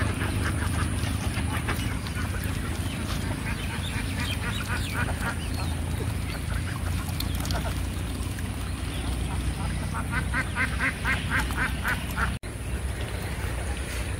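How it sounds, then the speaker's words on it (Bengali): A duck bathing in water in a village quacks repeatedly in short bursts over steady outdoor noise and water sounds, while a person talks nearby. "এই হাঁস খুব সুন্দর স্নান করতেছে"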